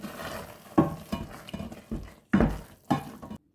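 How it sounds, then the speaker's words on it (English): Spoon stirring a thick cassava leaves stew in a pot, several distinct scraping strokes and clinks against the pot spaced by short pauses, close and fairly loud. "I'm going to stir that in."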